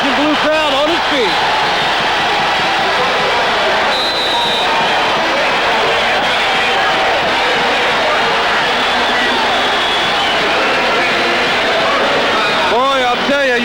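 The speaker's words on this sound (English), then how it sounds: "You can hear this Illini crowd." Illinois Fighting Illini basketball crowd roars continuously against the Missouri Tigers in a 1988 arena game, loud and sustained, with commentators' voices rising briefly at the start and end.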